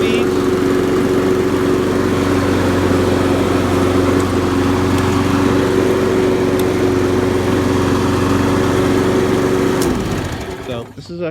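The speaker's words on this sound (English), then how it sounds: "So this is actually a pretty nice mower." A 1997 Snapper Big 6 riding lawn mower, six-speed, runs at a steady loud drone with a constant engine hum that cuts off abruptly near the end.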